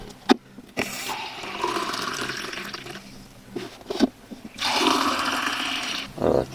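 Water gushes and drains from the pipe of a homemade heated expansion tank in bursts, with a steady rushing flow, a pause, then a louder surge near the end and some handling knocks in between.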